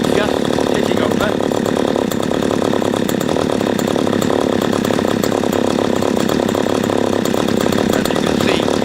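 Close and loud, a P1PE P6220C chainsaw with a poorly adjusted carburettor ticks over at a steady, rough idle, right on the point of stalling, with no pauses.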